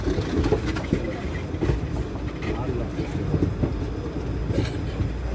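A Chennai to Sainagar Shirdi Express runs steadily on the track after switching back to the normal line. The rumble is continuous with a rhythmic clatter of wheels on rails, heard from inside the train.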